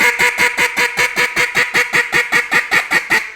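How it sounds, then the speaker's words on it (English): A duck call blown by a person in a steady, evenly spaced human cadence: about sixteen loud, nasal quacks in a mechanical rhythm, close and unaccompanied. "That is a human blowing a duck call."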